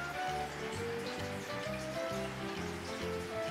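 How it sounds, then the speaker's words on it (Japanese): A sudden downpour like a thunderstorm hisses steadily and densely for the whole stretch, faint and broadband, with a rhythmic pulsing hum underneath. "急にですね、 結構いっぱい雷雨みたいに降ってきましたね。"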